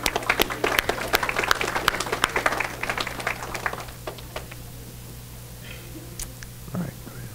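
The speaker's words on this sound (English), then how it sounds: "let's give him a round of applause for doing that." A church congregation applauds, dense clapping filling the first four seconds before thinning out into a quiet room with scattered small sounds.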